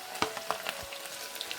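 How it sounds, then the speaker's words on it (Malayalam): Ginger dropped into hot oil for a dried shark pickle fries with a quiet sizzle, broken by a few sharp pops and light stirring clicks close by. "അതിലേക്ക് ഇഞ്ചി ഇട്ട് വറുത്തെടുക്കാം"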